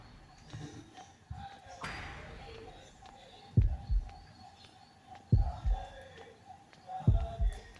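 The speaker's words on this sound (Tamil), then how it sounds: "இந்த இடத்துக்குள்ள வரும்போது தான் கைஸ் ஹார்ட் பீட் அடிக்குது" Heartbeat sound in the horror video game Horrorfield: deep low thumps recurring about every two seconds, each a quick double beat, over quiet ambient game noise.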